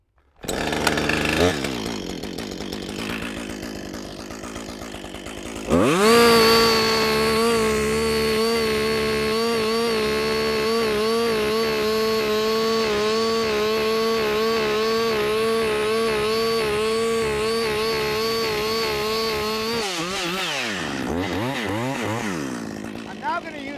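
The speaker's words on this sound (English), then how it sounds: "I don't want to bore cut in parallel." A chainsaw making a bore cut to fell a tree starts with a pull and brief idle, then revs to a loud, steady high cutting whine held for about fifteen seconds before dropping back to idle. Someone talks underneath.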